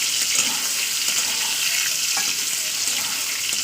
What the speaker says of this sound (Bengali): দেখতে পাচ্ছেন বেগুনটা আমার ভাজা হচ্ছে